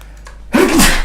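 A single loud, close sneeze bursts out halfway through after a quiet stretch of room tone, sharp at the onset and trailing off briefly, with no talking in between.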